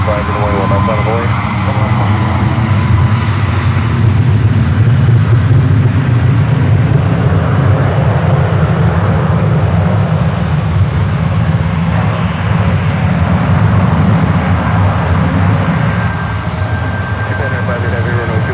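A fixed-wing airplane takes off from runway 1 left at San Francisco airport (SFO), a loud, sustained broadband engine roar that stays close and powerful for the whole stretch.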